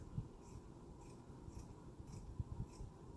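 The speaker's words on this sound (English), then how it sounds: "I'm just going to start cutting up the shirt" Scissors snip through a T-shirt in a quiet room, with a handful of soft crisp cuts spaced about every half second over a low rustle of fabric.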